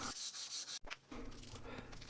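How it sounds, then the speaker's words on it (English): A steel knife blade, a San Mai bushcraft knife, is rubbed with sandpaper in repeated close strokes, with a short pause partway through before the rasping resumes, fairly quiet and without talking. "Next comes the always tedious task of sanding and polishing up the blade."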